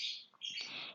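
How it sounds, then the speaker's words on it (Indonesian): Birds squabbling outside, sharp high squawks and chirps in quick bursts across a second, fairly close and loud, with no talking. "itu burungnya lagi berantem apa gimana dah"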